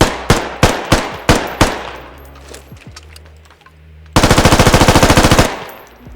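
Automatic rifle fire in the military shooter game Squad: five or six loud single shots spaced apart, a pause, then a dense sustained burst of rapid automatic fire, close and without talk.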